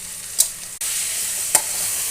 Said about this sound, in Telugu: దీన్ని బాగా కలపాలి